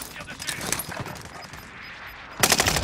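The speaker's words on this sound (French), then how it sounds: "J'essuie des tirs ennemis" Enemy gunfire in Call of Duty: Modern Warfare, rattling bursts of automatic fire at mid-distance over game noise, ending in a louder, closer burst.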